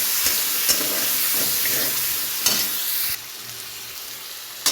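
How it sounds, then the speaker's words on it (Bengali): Poppy seed and mustard paste frying with onions in hot oil, a dense steady sizzle close by with occasional stirring clicks, dropping slightly in volume partway through. "পেঁয়াজ দিয়ে নাড়াচাড়া করে পোস্ত আর সর্ষে বাটাটা ঢেলে দিলাম।"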